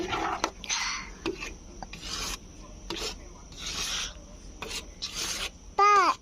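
Ragi porridge is stirred in a pot, giving repeated rasping scrapes in irregular bursts, fairly close and moderately loud, with a brief higher squeak near the end and no talk.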